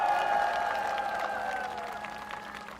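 A crowd at an outdoor campaign rally in Seongdong-gu, Seoul claps and cheers, scattered applause mixed with sustained tones and crowd noise, gradually fading over a few seconds.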